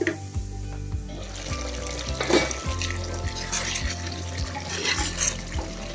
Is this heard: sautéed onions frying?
yes